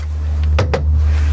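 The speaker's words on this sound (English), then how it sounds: "saloon doors instead of the usual washboards" Hinged saloon doors on the companionway of a Bavaria Cruiser 33 sailboat swing and knock shut, two quick close thuds over a steady low hum.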